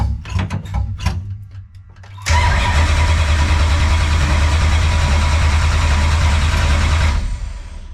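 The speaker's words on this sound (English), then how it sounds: "let's see if we can fire it up." A car engine cranks and catches, then settles into a steady, loud idle that holds for several seconds before cutting off, after some clicks and handling sounds at the start.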